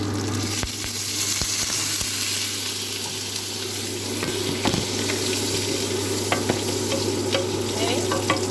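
Food caramelizing with demerara sugar in a pan is stirred, giving a steady, close sizzle with scraping stir strokes and a constant low hum, and no talking.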